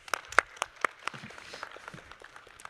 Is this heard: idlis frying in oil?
no